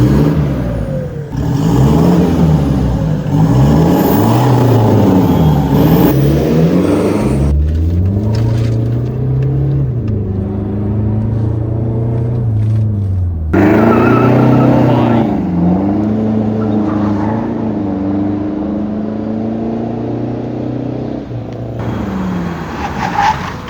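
A stage 2 tuned Toyota Fortuner with a full system exhaust revs hard, engine pitch climbing and falling in repeated surges, then holding a long droning high rev before dropping and rising again, loud and close.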